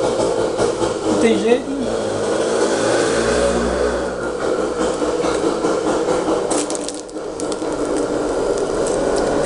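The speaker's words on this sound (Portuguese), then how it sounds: "E a moto passando na rua, um barulhão." Motorbike passing along a street, a loud buzzing engine drone that swells and fades over several seconds beneath a woman's speech.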